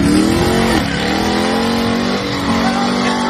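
A Dodge Hellcat revs hard while it slides, played back loud and continuous, its engine note rising and falling over a steady roar with a faint tire squeal.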